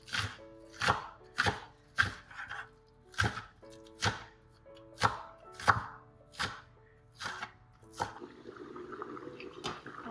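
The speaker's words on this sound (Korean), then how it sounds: "손으로 잡은 다음에 송송 썰어줍니다." A knife finely slices green onions against a wooden board in a steady rhythm, about ten crisp close strikes, with faint kitchen background noise.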